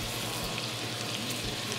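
Minced garlic and chopped onion frying in butter give off a continuous, even sizzle, close and steady with no talking.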